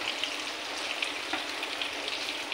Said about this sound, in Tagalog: Nakikita niyo, nagbabrown na ng konti ang ating baboy. Yung parang maprito-prito lang siya ng konti